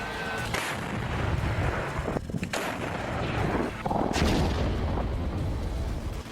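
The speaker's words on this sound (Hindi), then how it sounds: "ये पुतिन की सेना का वो हथियार है जो न तो अपना निशाना चूकता है और न ही दुश्मन को जिंदा छोड़ता है" A 2S7 Malka self-propelled artillery gun fires in the Russia–Ukraine war, with several heavy, booming shots spaced a couple of seconds apart over a rumbling background.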